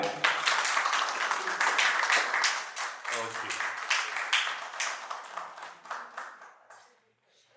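Applause at a church wedding, a crowd clapping loudly and steadily for several seconds before fading out, with a voice speaking briefly at the start.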